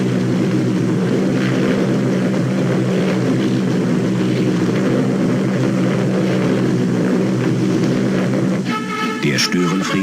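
A cartoon squadron of wasps flies in like an air force, a loud, continuous propeller-aircraft drone that holds steady and dense throughout, breaking into brighter whirring and zipping accents near the end.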